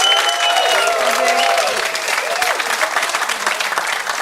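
A French studio audience at a karate demonstration show applauds in a loud, dense, continuous wash of clapping that holds steady for about four seconds, with faint voices mixed underneath.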